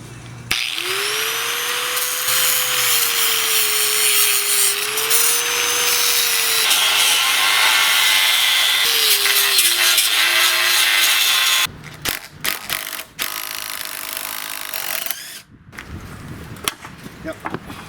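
A power tool saws through a suspension bushing on a Honda CRX, a loud continuous grinding whine that rises and falls in pitch with load before stopping, followed by clanks, tool handling and brief voices.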